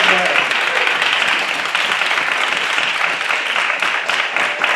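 Clapping fills a room during a student senate meeting, a dense, continuous round of applause at close range with a few voices mixed in beneath it.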